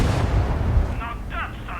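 A loud, booming artillery shell explosion in a video game rolls out at the start with deep rumble, followed by crackling debris and a voice talking over it.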